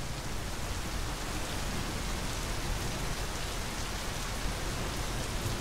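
Rain pours in the game My Summer Car, a loud, steady wash of broadband hiss and patter on surfaces, even and unbroken from start to finish with no voices.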